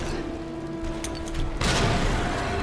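Grenade blasts in the Resident Evil 2 video game hit as a sudden, loud, heavy boom that rolls on as a broad roar, following a steady, dense background rumble.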